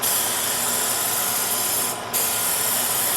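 A spray gun lays down a thin coat of 710 sealer on a vertical surface, a steady broadband hiss held for several seconds with one brief break before resuming, close and alone.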